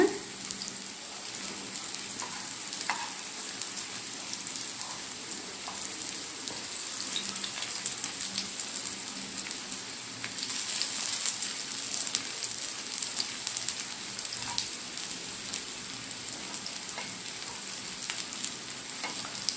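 Raw banana slices fry steadily in hot oil in a pan, a dense, even sizzle with crackling pops running continuously throughout, no voices.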